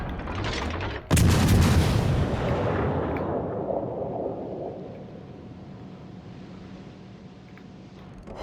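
A tank cannon fires in an online tank battle game: one sharp, loud boom followed by a long rumbling echo that slowly decays into low background noise.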